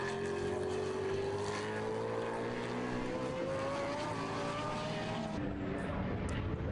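GT race cars from the Blancpain Endurance Series sweep through a right-hand corner at Silverstone Circuit, engine notes rising in pitch as they pass at moderate distance, one car's drone blending into the next.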